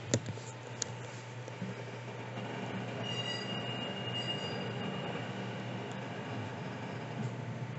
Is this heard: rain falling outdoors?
no